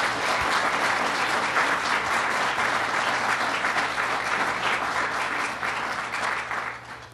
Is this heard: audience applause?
yes